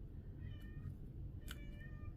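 A cat gives two faint meows, a soft drawn-out one and then a brief sharper one, over a low steady room hum.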